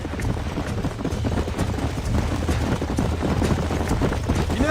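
Horse hooves clip-clop steadily over open ground in the Western game Red Dead Redemption, a continuous rhythmic patter of several animals moving close by, with wind and low rumble underneath and no speech.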